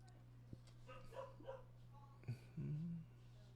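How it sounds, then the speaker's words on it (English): Dogs in the background of a room, a few faint short yips and a whimper-like whine at a distance, over a steady low electrical hum with a voice briefly present. "Sorry if you can hear my dogs in the background."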